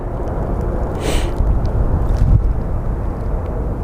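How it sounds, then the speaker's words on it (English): At Sky Harbor airport, an airliner accelerates at full power down the runway, its broad, heavy roar rumbling steadily and building slightly, heard from some distance outdoors. "This plane is now going to go full speed."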